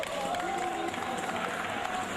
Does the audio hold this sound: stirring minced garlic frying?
no